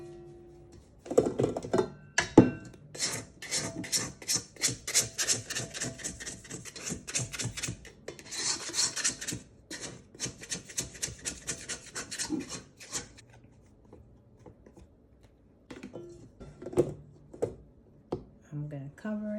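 Cinnamon roll dough being scraped down in a bowl, giving a run of dense, rapid rasping scrapes that come close and fairly loud. Brief pauses break up the scraping, and a voice is heard in places.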